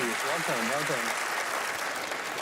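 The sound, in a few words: audience applause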